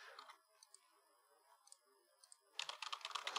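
Computer keyboard keys pressed during an assembly programming session, a few light, scattered clicks followed by a quick, dense burst of typing toward the end, close and fairly quiet.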